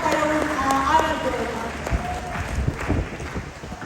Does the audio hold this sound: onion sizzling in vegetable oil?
no